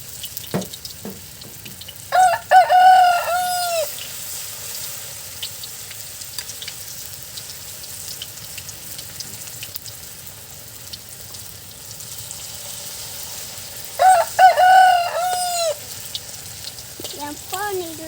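Banana blossom fritters (okoy na puso ng saging) fry in hot oil with a soft continuous sizzle, broken by two louder bursts of crackling and bubbling as batter hits the pan.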